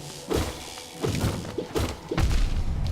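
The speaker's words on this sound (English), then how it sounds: "Ooh, that is an exploding egg." An egg explodes in Hollow Knight's fungal area, heard as a series of heavy thumps and crunching bursts with a rougher crash near the end, loud and close, no speech.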